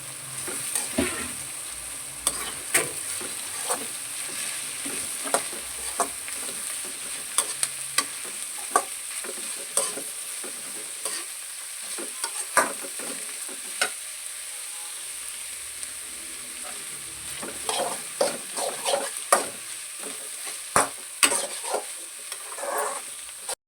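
Onion, cabbage and green chilli fry in a pan for street-style egg fried rice, a steady bright sizzle broken by repeated sharp scrapes and clacks of a stirring spatula throughout, with no voices.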